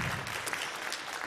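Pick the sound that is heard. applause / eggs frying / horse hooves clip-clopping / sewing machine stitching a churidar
applause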